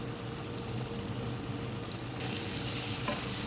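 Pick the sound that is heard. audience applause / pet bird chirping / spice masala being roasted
spice masala being roasted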